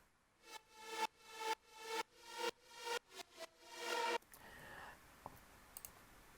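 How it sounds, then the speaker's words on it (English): Gated reverb on a music track, soloed: a run of about eight abrupt, bright bursts that swell and cut off sharply in a steady rhythm, followed by a quieter washy tail with a few faint clicks. "probably going to solo only the reverb, so you get this kind of gatey sounds"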